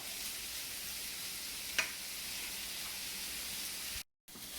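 Prawn masala frying uncovered in a pan, giving a steady, close, broadband sizzle that carries on throughout, with one brief clink near the middle and a very short dropout near the end.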